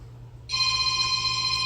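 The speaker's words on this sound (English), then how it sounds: "And there's the phone ringing." A telephone starts ringing partway through with a steady electronic trill that continues loud and unbroken over a low background hum, with no one speaking.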